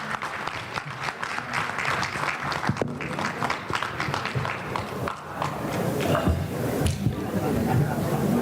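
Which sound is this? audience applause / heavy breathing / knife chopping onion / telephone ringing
audience applause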